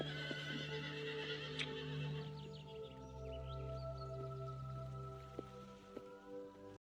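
Horses whinny and neigh in a green countryside film scene with hills, sheep and lambs, one clear call standing out over a soft bed of rain-like patter and faint hoof clops, no speech.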